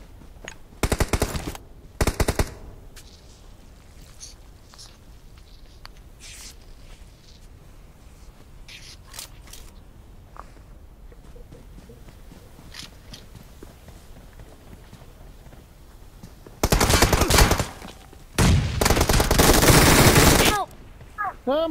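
Bursts of rapid automatic gunfire in PUBG Mobile: a short volley near the start, then long loud sustained fire near the end, with quiet footsteps and movement in between.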